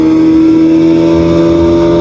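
Speed boat engine starting a ride at Bhavani Island, droning steadily and loudly with a constant hum and no speech, alone throughout.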